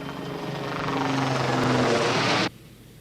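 A helicopter with an extended rotor tip configuration flies past, a loud, close rotor and engine roar that swells steadily for over two seconds and then cuts off abruptly, with no voices.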